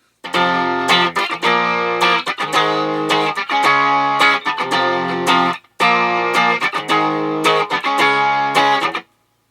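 A heavily distorted electric guitar chugs a riff with every chord landing squarely on the downbeat, loud and rhythmic, played twice through with a brief gap between passes.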